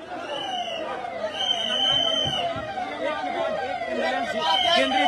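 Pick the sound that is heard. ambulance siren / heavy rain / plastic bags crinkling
ambulance siren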